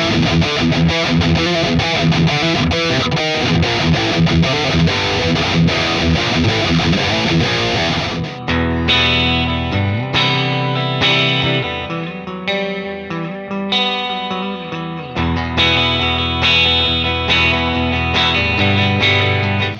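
An electric guitar runs through BIAS FX 2 remastered amp models with dynamic tube distortion simulation, first as a dense wall of distorted chords, then as sparser, ringing notes and chugs, loud and continuous.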